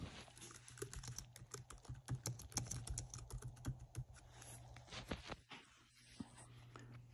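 Fingers tap quickly on a computer keyboard, a quiet run of uneven clicks with a short pause and a final few keystrokes.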